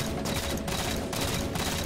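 Rapid automatic gunfire in the shooter Halo 4, a dense, steady stream of shots pulsing in quick bursts throughout this brief moment.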